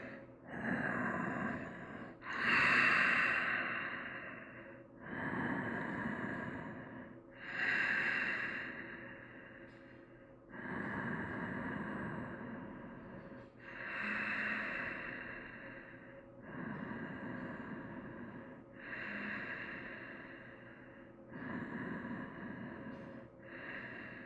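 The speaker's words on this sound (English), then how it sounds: "Just about 4 or 5 breaths here." Slow, deep breaths taken while holding a yoga pose, close and soft, with about nine long inhale and exhale cycles in an even rhythm and no talking.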